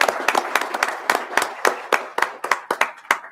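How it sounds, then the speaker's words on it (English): A small audience at a commission meeting claps for an officer, with fairly sparse, distinct hand claps in an uneven rhythm, close and moderately loud, lasting a few seconds. "Can we give him a round of applause, please?"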